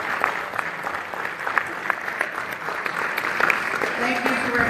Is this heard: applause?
yes